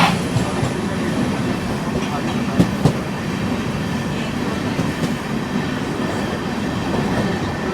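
Brand-new Sairang Guwahati Express train passing close alongside on the neighbouring track, a continuous rolling rumble of wheels with a couple of sharp clanks, heard from inside another moving train.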